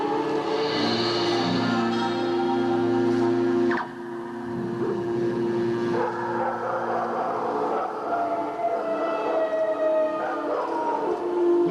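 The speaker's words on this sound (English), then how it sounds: "You hear the dogs barking?" Howling dogs and wolf-like cries blend into a recorded piece of sacred music with a long sustained horn and drone, the animal voices rising and falling in wavering, siren-like glides over the steady music.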